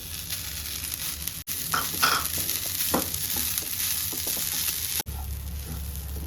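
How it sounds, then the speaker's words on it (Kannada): Raw grated coconut and two green chillies fry in a pan for an egg masala, a steady close sizzle with scattered stirring scrapes and brief dips in the sound. "ಈಗ ಇದೇ ಪ್ಯಾನ್ನಲ್ಲಿ ಹಸಿ ಕೊಬ್ಬರಿನ ಫ್ರೈ ಮಾಡಬೇಕು"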